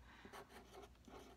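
A pen or marker writes a single word, pollination, on a board or paper, giving brief soft scratchy strokes in a quiet room with no speech.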